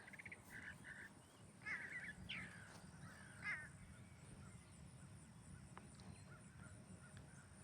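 A crow caws several times from a pine tree on a farm, giving a few distinct harsh calls spread over the first few seconds, faint and somewhat distant over a quiet outdoor background.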